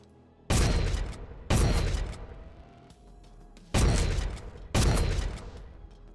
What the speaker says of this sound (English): Next up, we have the Tetanus Shot, based on the Team Arena Nail Gun